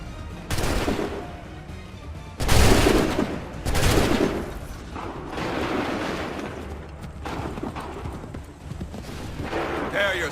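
A musket volley in Assassin's Creed III cracks out in several loud, dense bursts of gunfire, mixed with shouted commands and battlefield noise.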